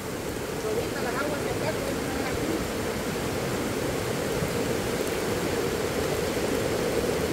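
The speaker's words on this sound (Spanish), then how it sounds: "Es que aquí está fuerte el río." A swollen, fast-flowing river rushes strongly past nearby houses, a steady loud roar of broadband water noise that runs unbroken from start to finish with no pauses.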